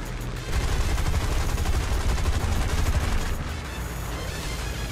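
Dense, rapid automatic gunfire fills the War Thunder battle while aircraft shoot at planes and ground targets: a loud, continuous stream of shots with a heavy low rumble, with no talking.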